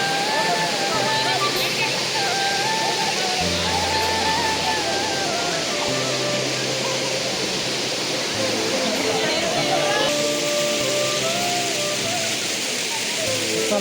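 Tatigudem waterfall, a steady, loud, full roar of falling water with no breaks, while people talk in the foreground.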